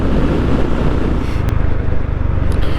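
A Honda GB 350 S motorcycle being ridden gives a steady, close engine drone mixed with constant wind rush, with no voices.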